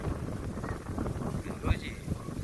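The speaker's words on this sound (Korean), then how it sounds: "바람이 엄청 부네." Strong wind blowing outdoors near water, buffeting the microphone with a continuous rough roar while a person talks over it.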